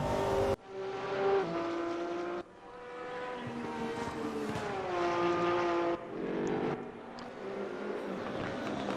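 Race cars, among them a black and red Porsche with fading tyres and a BMW, roar past one after another at Mount Panorama. Loud, rising and falling engine notes overlap with shifting pitch and abrupt cuts between passes.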